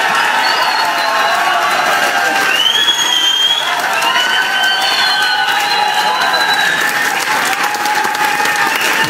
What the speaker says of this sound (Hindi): और उनके लिए ताली बजाना है तो दिल से बजा लो